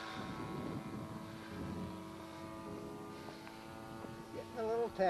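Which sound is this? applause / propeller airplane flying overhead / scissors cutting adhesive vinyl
propeller airplane flying overhead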